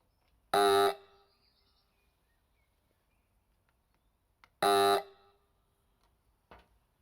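Electric AC horn with a self-interrupting contact, salvaged from a scrapyard, blares in two short, very loud rasping bursts, then gives a fainter brief blip.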